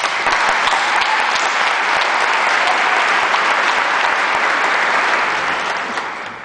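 A graduation crowd gives loud, continuous applause, a thick roar of clapping that holds steady and then begins to taper off at the end.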